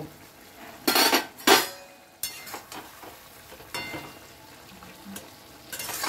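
Potato and drumstick curry gets stirred in a pan, the spoon scraping and clinking against the metal in a few loud bursts over a low background sizzle.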